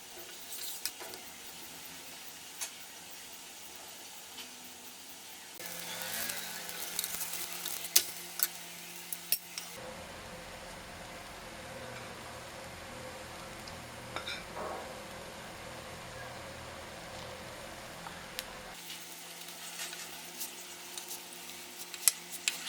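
Coconut-filled sweet batter frying like a dosa on a hot pan with oil or ghee, giving a steady soft sizzle that swells louder in the middle stretch before settling back to a quiet crackle.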